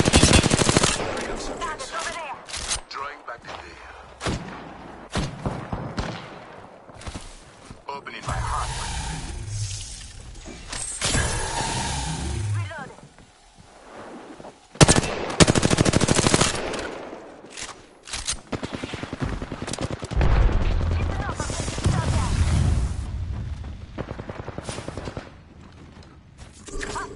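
Gunfire in the battle royale game Apex Legends rattles in loud bursts of automatic fire, with stretches of clustered shots and short lulls, and a voice speaks between them.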